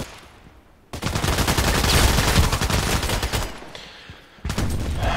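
A dense, sustained barrage of mortar fire in a sniper video game, loud rapid blasts rolling together for several seconds, easing off and then flaring up again near the end.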